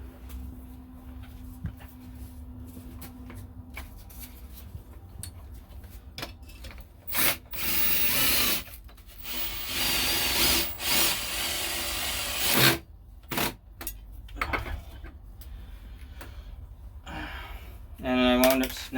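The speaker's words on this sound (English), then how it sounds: "what I'll do now is I'll put all the screws in." Screws are driven into wood to fix a metal toilet flange in a basement floor, heard as a run of uneven bursts of drill whir, grinding and scraping, with quiet gaps and brief speech between them.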